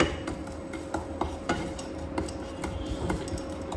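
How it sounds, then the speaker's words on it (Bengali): Dried red chillies dry-roasting in an empty pan, with rapid, irregular close clinks and scrapes of stirring over a dense, steady background rustle. "শুকনো লঙ্কা, এটা আমি শুকনো খোলায় ভেজে নেব।"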